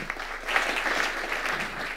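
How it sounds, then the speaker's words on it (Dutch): An audience at a provincial nature lecture in Flevoland claps for the presenter, a full roomful of hands producing steady, moderately loud applause that swells slightly midway and carries on without speech. "mag ik een davend applaus voor Marius Brands"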